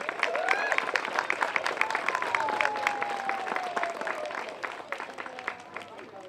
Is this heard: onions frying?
no